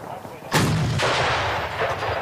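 An M119 105mm howitzer fires a live round during a U.S. Army paratrooper battery exercise, one sharp, loud blast followed by a long rumbling echo that slowly fades.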